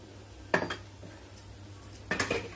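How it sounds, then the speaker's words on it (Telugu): A lid goes onto a cooking pan during breakfast preparation, making two sharp metallic clinks about one and a half seconds apart, close by, over a faint steady background hum. "ఇప్పుడు కూడా మూత పెట్టాను"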